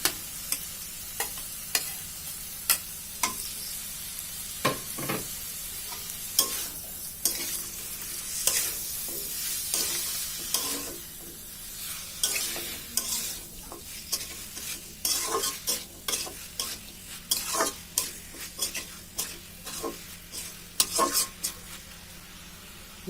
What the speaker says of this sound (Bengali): এখন ভেজে রাখা সেই ওল এবং কাঁঠালের বিচি দিয়ে দিলাম